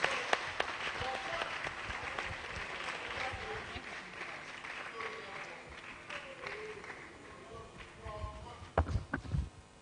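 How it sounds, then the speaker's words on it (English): An audience clapping at a World Environment Day event on ending plastic pollution as a speaker takes the stage, a sustained spread of applause with sharper claps and footsteps near the end. "Let's clap for him as he mounts the stage."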